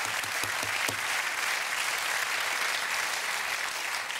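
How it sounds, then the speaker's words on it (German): A studio audience at a German late-night talk show applauds in a broad, even wash of clapping that holds steady from start to finish, with no voices on top. "Ein Applaus für die drei."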